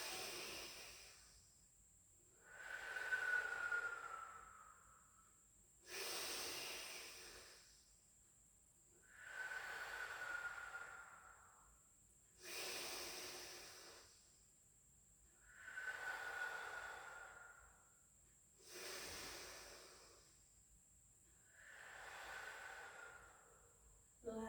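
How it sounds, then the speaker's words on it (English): Slow, deep breaths during a Pilates stretch, seven or eight long airy inhales and exhales in a steady rhythm, close and soft with quiet pauses between. "5 big deep breaths in and out."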